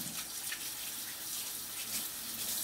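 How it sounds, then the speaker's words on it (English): Water runs from a kitchen sink faucet while hands are washed with soap before baking doughnuts, a steady, faint hiss of flowing water with no speech. "First we're going to get some water on our hands."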